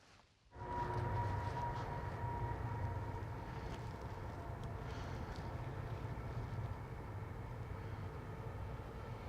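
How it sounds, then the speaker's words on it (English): A train rumbles past at a distance, a steady low roar with a faint tonal whine that holds throughout after a brief quiet start. "Just waiting for that train to go past."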